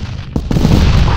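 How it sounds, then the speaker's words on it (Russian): A grenade detonates in Arma 3, producing a single loud, close, deep boom that rumbles on briefly after a short crack. "Кидаем одну гранату на счет три"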